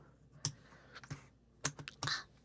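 Scattered keystrokes on a computer keyboard, a handful of quiet close clicks in irregular bursts with pauses between them, heard alone.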